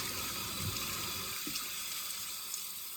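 Tap water runs steadily into a sink while lettuce leaves and vegetables are washed for macaroni salad, an even, close hiss with a few soft bumps, no talk.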